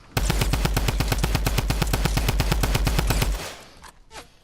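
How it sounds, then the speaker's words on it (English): Rapid automatic fire from a drum gun in a Fortnite battle royale match, a loud sustained burst of evenly spaced shots lasting over three seconds before cutting off into quieter game sounds. "He just keeps shooting at me this whole time."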